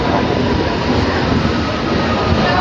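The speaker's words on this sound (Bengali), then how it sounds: "ট্রেনটা কিন্তু এখন দেখতে পাচ্ছ 11:33 কিন্তু আমাদের তমলুক স্টেশনে পৌঁছে দিয়েছে।" A local train pulls into Tamluk station with a steady, loud rumble of wheels and carriages that continues evenly throughout, with no voices over it.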